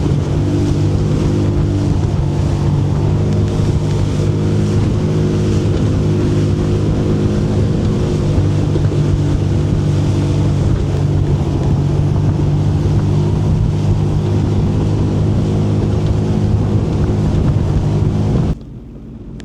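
Sea-Doo personal watercraft bouncing over choppy waves on Georgian Bay, engine roaring continuously and close amid heavy wind buffeting, cutting off abruptly near the end.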